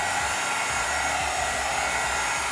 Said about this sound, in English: To speed up the drying process, I used a heat gun